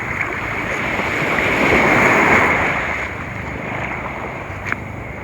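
Steady broadband wash of water and surf at low tide, swelling slightly in the middle then easing, with some wind rumble and no voices.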